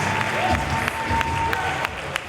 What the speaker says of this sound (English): as Gisele Shaw takes in the cheers of the crowd